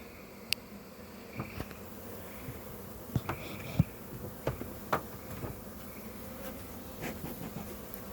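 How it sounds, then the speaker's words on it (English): A steady hum of many bees buzzing close by, with scattered louder passes and light clicks over the continuous drone. "Plenty of bees in this colony."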